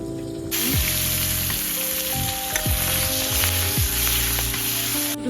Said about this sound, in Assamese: মাছৰ তেলখিনি সেইটো এতিয়া ফ্ৰাই কৰিম